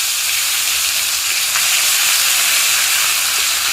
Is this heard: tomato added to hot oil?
yes